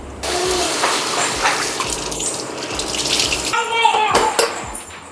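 Rice is rinsed in a pot with running tap water for a vegetarian meal on an induction stove, producing a continuous splashing gush, then sharper swishing and sloshing near the end as the grains are stirred.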